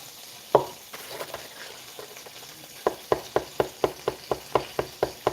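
Beef sizzles on a grill as a soft steady crackle, then a run of about ten sharp, evenly spaced taps or stabs rings out close by over the frying hiss.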